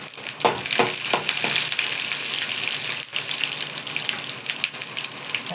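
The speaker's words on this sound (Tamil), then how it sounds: "தாளிக்க வெங்காயம் போட போகிறேன்." Steady crackling sizzle of onions frying in hot oil, with scattered pops and stirring clatter throughout; close and fairly loud, no voices.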